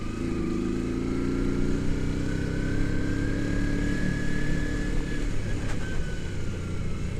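Motorcycle engine droning steadily while ridden on a rough, unrepaired road, a loud continuous rumble with a rising and falling whine as the engine works, wind noise throughout and no speech.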